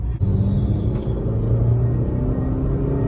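A Maruti Baleno's 1.2 litre petrol engine pulls hard in second gear near 4000 rpm, a steady loud rumble with rising tone heard from inside the cabin, no talking.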